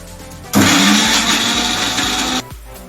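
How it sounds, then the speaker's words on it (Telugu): A kitchen mixer grinder blends honey-free ingredients with added sugar, a loud steady motor whine starting abruptly, running about two seconds alone, then cutting off. "వీటిని మిక్సీ పట్టుకోవాలి."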